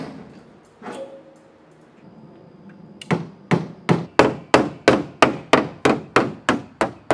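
A hammer whacks a car body panel during DIY auto body repair: one soft knock, then about a dozen sharp, evenly spaced metallic blows in a fast steady rhythm, close and loud.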